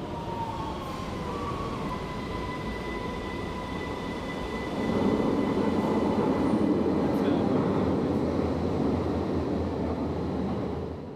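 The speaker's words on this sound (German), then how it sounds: "U4 und U6 Züge sind zusammen auf dem Weg." Vienna U-Bahn U4 and U6 trains run through Längsfeldgasse station, a rolling rail roar with a high tonal whine that swells louder midway and stays close.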